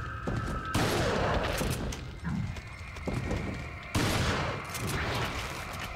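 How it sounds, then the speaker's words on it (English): Video game Resident Evil 4 gunfire and action sound effects fill the clip, with loud, dense bursts and sharp blasts at about one and four seconds over continuous game noise. "Shotgun."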